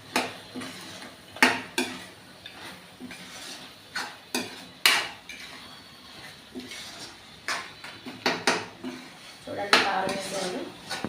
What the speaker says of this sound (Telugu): కారాన్ని కూడా ఒక ఫైవ్ మినిట్స్ ఇలా వేపుకుంటే పచ్చి రాకుండా ఉంటుందండి